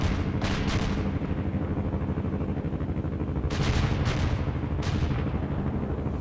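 An artillery barrage in World in Conflict: sharp, distant-sounding blasts arrive in spaced pairs over a continuous low battlefield rumble, loud and dense throughout.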